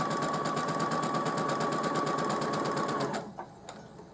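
A domestic sewing machine stitching denim in a straight line with the stitch length at 2.5. It gives a close, steady, rapid mechanical chatter for about three seconds, then stops, followed by a couple of small clicks.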